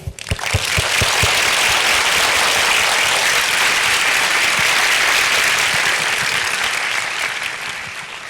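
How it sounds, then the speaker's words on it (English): Audience applause welcoming speakers at a university lecture hall event, a full, steady wave of clapping from a large crowd that swells quickly and tapers slightly at the end. "Please join me for a big applause to welcome both"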